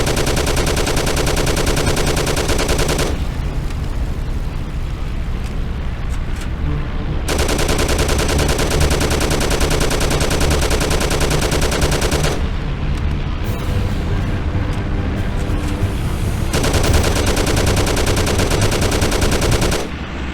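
Sustained bursts of loud automatic gunfire in the Mafia video game, long continuous rattling volleys broken by short gaps with background noise, the firing returning three times.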